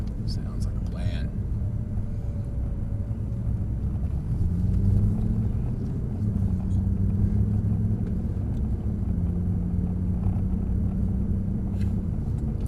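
A Mercedes-Benz C63 Black Series driving laps on a track, its engine droning steadily from inside the cabin, with a low rumble swelling midway as people talk over it.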